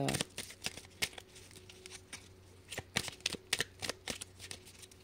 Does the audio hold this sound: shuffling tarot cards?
yes